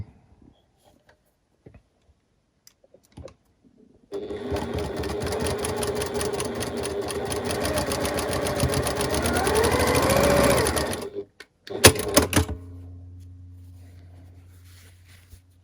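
Sewing machine stitching quilt block pieces together into a row, running in a steady fast whir for several seconds, stopping, then giving one short final burst.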